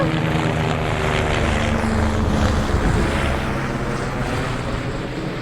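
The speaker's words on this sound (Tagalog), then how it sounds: "Palaging may helicopter dito" A helicopter passes overhead in a residential area along a route to an airport, giving a loud, steady, continuous rumble with a low droning hum that stays at an even level throughout, with no voices.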